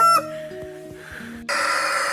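A rooster crows in a rural mountain village in Guizhou, where chickens and ducks are kept, a single harmonic crow rising and held clearly close by, then broken off by a louder burst of rustling noise.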